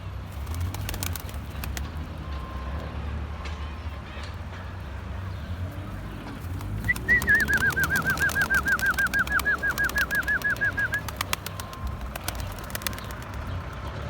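Pet pigeons kept in a coop on a balcony, giving soft cooing and a brief flutter of wings over steady background noise, with a rhythmic burst of calls midway.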